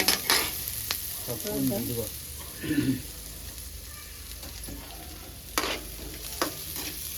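Sliced onions and curry leaves fry in a pan, sizzling steadily while a spoon stirs and scrapes them in irregular bursts close up.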